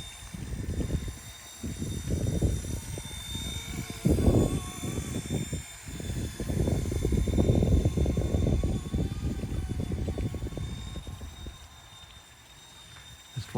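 A small RC Era C189 MD500 remote control helicopter flies outdoors in strong wind, its steady high-pitched rotor whine continuous throughout while loud wind buffeting rumbles and gusts over it in uneven surges.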